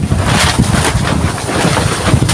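Strong, gusty wind buffeting the microphone with a loud, continuous roar and rhythmic surges, no voices.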